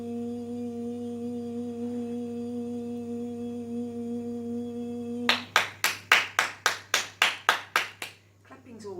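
About ten sharp hand claps land in an even rhythm, loud and close, after a long steady drone, ending in a quieter tail.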